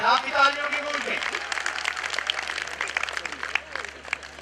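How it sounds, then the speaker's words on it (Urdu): Audience applause at a university convocation ceremony, a dense wash of clapping that swells after a brief spoken tail and carries on steadily at moderate level. "آپ کی تالیوں کی گونج میں"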